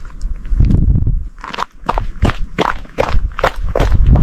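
Slow, deliberate footsteps of a lion walking toward a deserted place, a story sound effect: about eight heavy, evenly spaced steps, close and fairly loud, with no talk over them.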